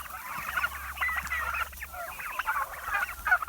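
Farm turkeys gobble and chatter in a dense, continuous flock chorus, many overlapping calls close by and fairly loud, with no talking.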